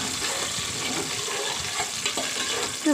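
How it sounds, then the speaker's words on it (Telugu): Onions and green chillies fry in a pan with a steady, close sizzling hiss that holds on throughout, with a few brief clatters near the end. "ఆనియన్స్ పచ్చిమిర్చి కూడా వేసేసుకుని ఫ్రై చేసుకున్నాము బాగా"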